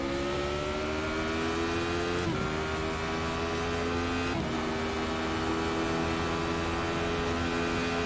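Radical SR8 race car engine in the iRacing sim, a steady high-revving drone held at constant pitch with two brief shift dips, continuous and loud with no talk.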